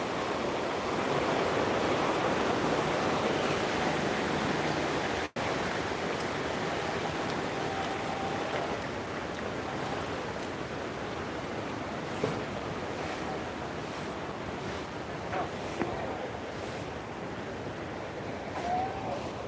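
Hope River rushing in flood after Hurricane Melissa, a broad steady roar of water heard close and loud throughout, with faint intermittent clicks toward the end and no talk.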